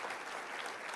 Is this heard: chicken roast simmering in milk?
no